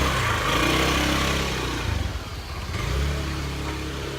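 A motorcycle engine rumbles steadily through a narrow city alleyway, a close, continuous low drone with slight rises in revs as the bike passes by.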